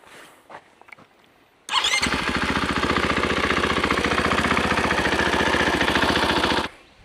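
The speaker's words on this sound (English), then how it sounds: "I'll start the bike up and let it run for a minute" A KTM EXC-F 500 motorcycle engine fires up after an oil change and settles into a loud, steady, rapid-pulsing idle. It runs close by for about five seconds, then cuts off abruptly into quiet.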